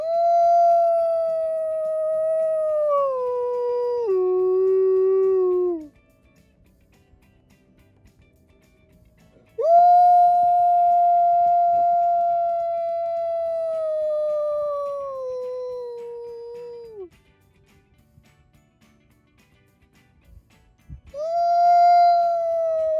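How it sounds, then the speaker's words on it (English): A wolf gives long, sustained howls, three drawn-out calls that slide down in pitch, separated by near-silence, clear and unaccompanied by talk. "So wolves will howl for protection."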